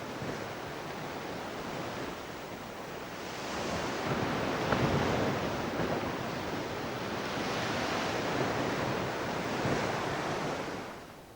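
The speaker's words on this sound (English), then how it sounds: "On a really windy day, the sea has even bigger waves." Big sea waves on a windy day, a continuous broad roar of surf with wind buffeting the microphone, swelling louder in repeated surges and then easing, with no voices.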